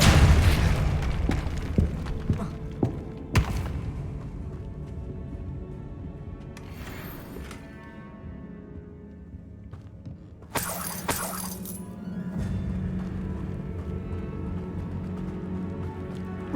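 Hogwarts Legacy spell effects from Depulso and similar spells being cast, with loud booming bursts, shattering crashes and bright whooshing flares over a sustained game soundscape, with no voices.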